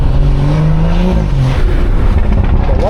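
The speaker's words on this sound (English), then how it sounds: "I feel like I got one of the best sounding B58s out here, bro." A BMW 340i with a B58 engine revs loudly up close, its pitch climbing and dropping through a throaty exhaust note with no talk over it.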